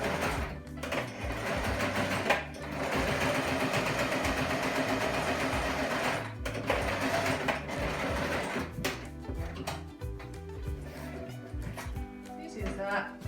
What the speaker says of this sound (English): on your sewing machine beside the sewing foot